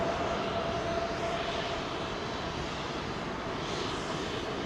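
Jet engines spool up for a takeoff roll in a flight simulator, giving a dense, steady roar with a faint high tone early on, loud and unbroken throughout.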